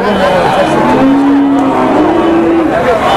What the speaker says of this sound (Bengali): দর্শক এদিকে কিছু আরেকটা ছোট গরু দেখতে পাচ্ছি